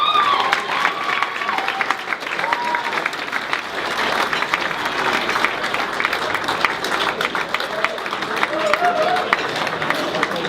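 A crowd erupts in sustained applause and cheering for an alumni receiving a distinguished service medal at an awards presentation; dense clapping and shouts fill the hall steadily throughout.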